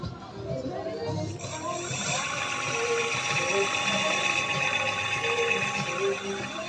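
A repaired electric motor with a new hall sensor spins up under throttle, a steady whirring mechanical hum with a faint high whine, running smoothly at close range while a person talks over it.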